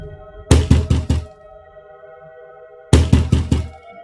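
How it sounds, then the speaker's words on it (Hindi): Knocking on a house door at night in a village: two bursts of four sharp, hollow knocks each, loud and close, separated by a quiet pause with a faint steady background tone. "फिर वह उस घर का दरवाजा खटखटाती है।"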